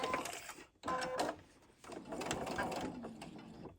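Sewing machine stitching a chap stick holder at a 2.0 stitch setting: faint, short runs of mechanical clatter with brief pauses between them.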